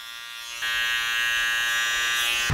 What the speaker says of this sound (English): Just using the clippers to create that finish